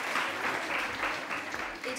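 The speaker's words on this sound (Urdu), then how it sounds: "تالیاں تو بجا دیجیے" An audience at an Urdu speech event claps in a dense, steady burst of applause lasting a couple of seconds, with voices talking over it.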